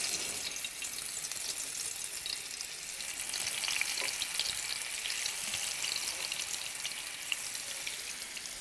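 Pieces of aair fish fry in a generous pool of hot oil for a Bengali fish curry, giving a steady, continuous sizzle that holds from start to finish, with no one speaking.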